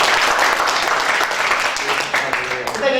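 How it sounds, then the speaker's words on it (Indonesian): Church congregation applauding during an Indonesian worship service, a dense steady patter of clapping filling the room, with speech present throughout. "Kita beri tepuk tangan sekali lagi."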